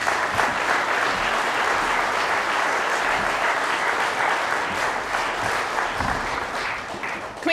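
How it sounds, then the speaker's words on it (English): Audience applause at an agricultural industry awards and hall of fame ceremony honoring a veteran, a steady, dense wash of many hands clapping throughout, tapering slightly near the end. "Can we have just one more round of applause for Mr. Hunter and all of the servicemen and"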